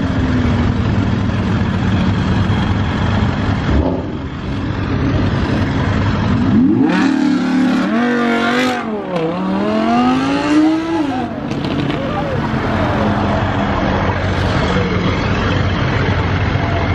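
Audi R8 sports car with no rear bumper revving hard and accelerating at a street car meet, the engine note sweeping up and down loudly and nearby amid steady crowd and traffic noise.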